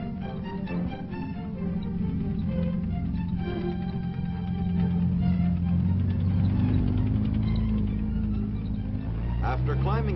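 A T-48 tank grinds over a washboard test-track road, a steady heavy engine rumble with rattling tracks, joined by a narrator speaking over it.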